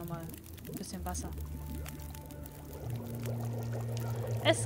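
Water pours in a gameplay scene from the survival game The Long Dark, a short liquid stream under someone speaking over the top, with steady game ambience behind.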